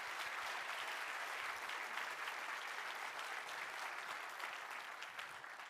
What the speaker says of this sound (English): Let's give them a big round of applause first and then take some questions.